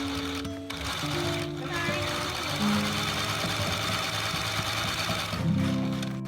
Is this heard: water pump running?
no